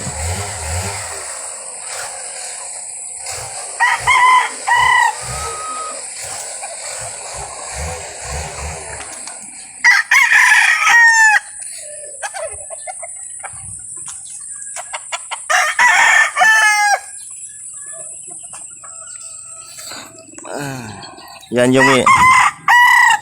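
Chickens cluck and squawk around a backyard breeding coop as a rooster crows loudly several times, with bursts of engine-like buzzing in the background and occasional voices talking.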